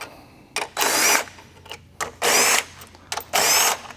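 A power impact tool blasts out 13mm strut bolts on a BMW M240i in three loud bursts of about a second each, close by, with short quiet gaps and lighter clicks between them.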